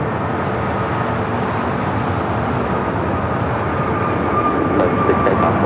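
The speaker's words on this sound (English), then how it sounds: "Here we have Avianca 556 coming in from Guatemala City on the A320neo." An Avianca Airbus A320neo arriving from Guatemala City at LAX, its engines producing a constant, loud broadband roar that stays level throughout, with a faint whine surfacing near the end.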